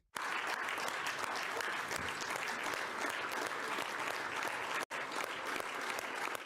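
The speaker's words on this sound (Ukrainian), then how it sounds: "Своє рішення, звісно ж, закріплюють бурхливими оваціями." Stormy ovation from parliamentary deputies, dense continuous clapping filling the hall, loud and steady with a brief cut near the end before resuming.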